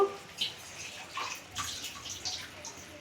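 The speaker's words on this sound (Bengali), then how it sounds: "এবার একটুখানি এটা ধুয়ে জল দিয়ে দেব।" Water is poured into a pan of spice paste made with sour yogurt and green chilli for prawn malai curry, a light trickling splash that comes in several short bursts, close and fairly quiet, without talk.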